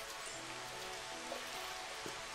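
Soft, steady rain patters on surfaces in the video game Final Fantasy XV, a faint, even hiss with scattered drips, heard alone with no talk.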